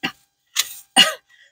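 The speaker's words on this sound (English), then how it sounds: "You ever inhale your own spit and like it makes you cough like an idiot?" A person coughing after inhaling their own spit: three short, sharp coughs spaced apart, close and fairly loud, with brief silences between and a faint trailing breath at the end.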